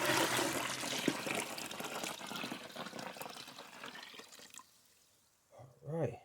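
Liquid is poured into a toilet brush holder, giving a continuous splashing, trickling flow that gradually fades, followed by a brief voice at the end.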